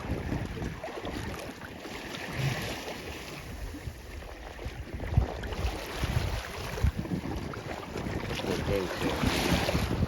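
A sailboat under way in the North Channel near Meldrum Bay and Gore Bay, with steady wind buffeting the microphone, rushing water along the hull and waves lapping throughout.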